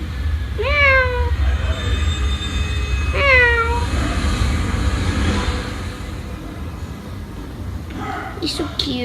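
A pet cat meows twice, each call a clear rising-and-falling cry close to the microphone, over a steady low background hum; a person speaks briefly near the end.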